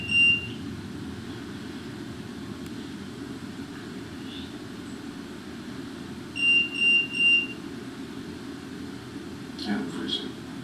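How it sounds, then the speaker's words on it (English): An alarm goes off in a college apartment, giving short electronic beeps: a brief tone near the start, then three quick pulses in a row midway, over a steady room hum with faint noise near the end. "Did you make that alarm go off?"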